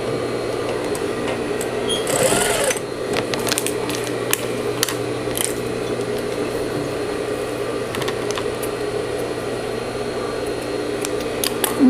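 A sewing machine stitching synthetic fabric for a small zip pouch runs steadily and close for the whole stretch, a continuous motor whir with a brief louder surge early on.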